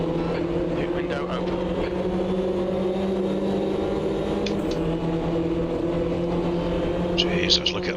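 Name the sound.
race cars driving in a racing video game at Hockenheim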